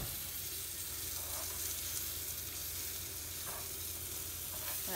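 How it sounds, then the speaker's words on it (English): Floured chicken tenders fry in oil over medium heat with a dense, continuous sizzle and hiss, loud and close, steady throughout with only faint soft bumps and no talking. "we're going to let this cook now for a few minutes on medium heat to brown one side"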